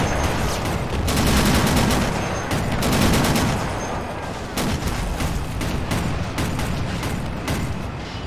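Quad M45 anti-aircraft machine guns on an M16 halftrack fire in long, dense bursts of rapid gunfire that roll on almost without pause, loud and close, with short gaps between strings of shots.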